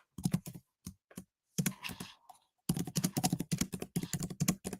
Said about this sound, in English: Your Mac keyboard sounds way better than my Mac keyboard does